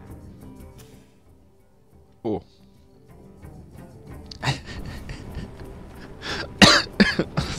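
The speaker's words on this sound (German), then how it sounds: "Entschuldigung gerade für das Husten" A man coughs sharply a few times while playing Hearthstone, a short burst early on followed by a cluster of louder, closer coughs toward the end amid breathing and small room noises.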